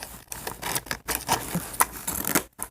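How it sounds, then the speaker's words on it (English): Scissors snipping and scraping through plastic Barbie doll packaging during an unboxing, a quick series of close, crisp cuts and crinkles with short pauses between them. "Get my scissors."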